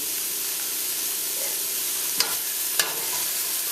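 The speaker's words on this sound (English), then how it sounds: "give everything a quick stir" Curry powder and a piece of Scotch bonnet pepper are stirred in a hot pan for cabbage with leftover stewed pork, making a steady close sizzle and hiss with two sharp utensil clinks against the pan near the end.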